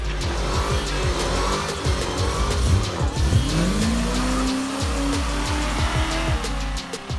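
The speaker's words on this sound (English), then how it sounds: "Maybe do some more burnout." A Dodge car does a burnout, its engine roaring loud and close while the tires squeal in a long, wavering screech, with engine pitch rising and falling throughout.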